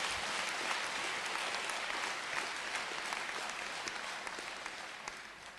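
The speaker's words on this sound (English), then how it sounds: "may we give a one round of applause again to our Chancellor" A large audience applauds the Chancellor at a university inauguration ceremony for Thabo Mbeki at Unisa, a dense, sustained patter of many hands that fades slightly toward the end.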